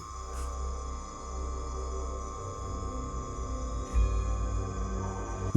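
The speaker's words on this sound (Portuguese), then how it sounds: "Alguns sapos cantam, sons que ecam pela floresta noite adentro." Frogs calling at night in the Amazon rainforest, a steady dense chorus of high pulsing trills with a few louder nearby notes and a brief louder burst near the end.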